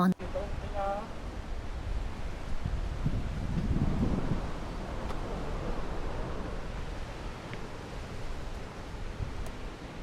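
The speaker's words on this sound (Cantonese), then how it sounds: "同埋今日好天，好大風" Strong wind blows along the coastline in Kyushu, Japan, on a clear day, with a constant low buffeting roar and rustle close to the microphone. A brief voice is heard near the start.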